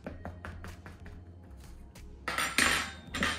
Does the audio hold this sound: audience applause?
no